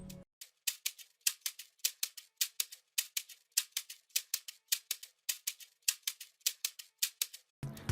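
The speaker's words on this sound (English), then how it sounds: "And then next up, we have the custom Afrobeats shaker loop," A custom Afrobeats shaker loop plays alone, bright rhythmic shaker strokes repeating at a steady groove for several bars, close and crisp with a brief low note at the start and end.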